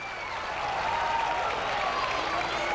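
A crowd at a beach volleyball semifinal applauds in a steady wash of clapping, with whistles or cheers rising over it and a voice faintly underneath.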